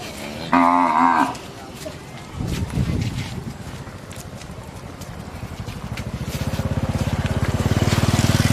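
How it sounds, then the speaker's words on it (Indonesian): Cows moo loudly while being led through floodwater during a flood-risk simulation, with one short nearby bellow followed by splashing, scattered lowing and a rising, steady rumble of moving water and animals. "Beberapa sapi merasa takut dengan genangan air sehingga susah dibawa."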